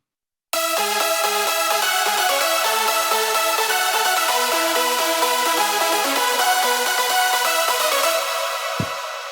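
Layered synth leads for a progressive house track in Cubase play a loud, bright melodic line of rapid repeated notes that starts suddenly after a brief silence and runs without talking.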